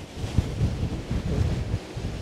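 Strong wind buffets the microphone at a seashore while heavy ocean waves surge and crash nearby, a loud continuous low rumble with rolling swells and no voices.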